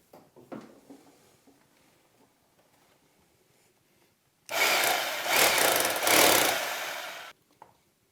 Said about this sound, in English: In case your drilling machine has the hammer function, once you have passed through the plaster, you put here on the hammer version